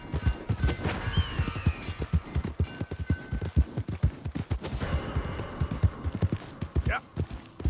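Rapid hoofbeats clatter in a steady galloping rhythm in Red Dead Redemption 2, with a horse whinnying partway through and voices talking over the action.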